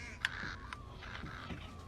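A crow caws in the video game Thief, one sharp caw followed by fainter calls over a quiet ambient background.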